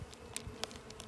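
Honeybees buzzing at a hive during spring feeding with syrup made from onion skins, a soft steady hum with a few brief louder passes of individual bees close by.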